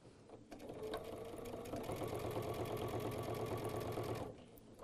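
A sewing machine stitches a quilt block about an eighth of an inch from the fold, a steady close whirring run that starts after a brief pause and stops near the end, with no talk.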